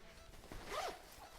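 Amazon Basics backpack zipper pulled in one quick continuous zip, close and fairly quiet, its rasp rising then falling.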